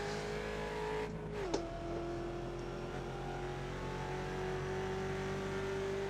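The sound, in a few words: Mustang race car engine in iRacing video game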